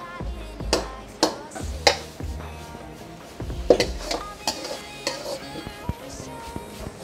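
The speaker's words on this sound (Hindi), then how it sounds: "अभी ये जब बटर के अंदर सॉटे हो जाएगी" Vegetables sautéing in butter in a pan for a chicken Arabian sizzler, heard as a soft frying sizzle broken by several sharp clinks and scrapes of a utensil stirring against the pan.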